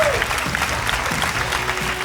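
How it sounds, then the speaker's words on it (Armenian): Dense, steady applause from the audience at a comedy show, loud and continuous throughout the short stretch. "Ծափահարություններ։"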